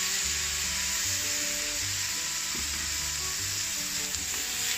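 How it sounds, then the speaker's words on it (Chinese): Chicken slices and three colours of capsicum stir-frying in a hot wok, a steady loud sizzle running throughout with occasional scrapes and clinks of the spatula tossing the food. "继续把它翻炒均匀。"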